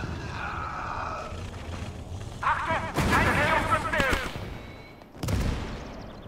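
Tank cannon fire in the World War II strategy game Gates of Hell, with several loud booming shots with sharp onsets, one near the middle and a final blast at the end, each with a rumbling tail over background battle noise.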